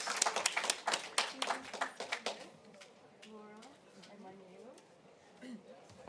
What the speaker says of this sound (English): let's give all of these panelists a round of applause